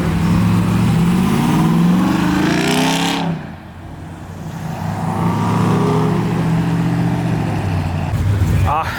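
An LS-swapped green Jeep leaving a car show revs and roars loudly nearby, the V8 rising in pitch, dipping briefly, then pulling away again amid crowd noise and voices.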